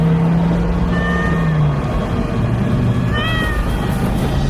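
A black cat meows a few times in drawn-out, wavering cries, loud and close over a steady low engine hum of a vehicle at night.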